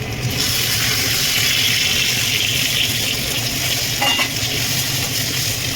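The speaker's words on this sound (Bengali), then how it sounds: "ঠান্ডার মধ্যে পেঁয়াজটা ভাজা হয়ে গেছে" Loud, continuous sizzling of onions, bay leaves, chilies and cinnamon frying in hot oil for chicken curry, with a brief scrape of stirring partway through.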